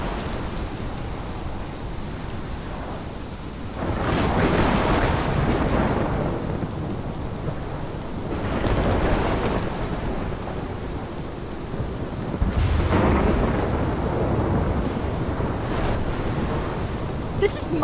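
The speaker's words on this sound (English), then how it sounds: "This is my storm." Thunderstorm with heavy rain in the game Life is Strange: a constant rain roar and wind, broken by several rolling thunder swells spaced a few seconds apart.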